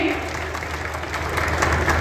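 An outdoor village gathering applauds Singhraj ji, father of a soldier killed in the Kargil war, with sustained crowd clapping under a steady low hum from the public address system.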